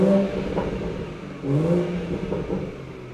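A 2017 BMW M240i with a 3.0 engine revs in a few rising and falling blips, its exhaust burbling with pops and splutters, heard fairly close with no talk.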